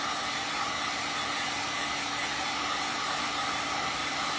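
A hair dryer blows steadily on a refurbished remote control caddy, a constant loud whooshing hum with no change in pitch and no voices.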